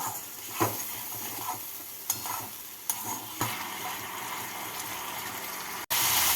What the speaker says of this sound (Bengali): টমেটো দিয়ে মশলাটাকে ভালো করে কষিয়ে নিচ্ছি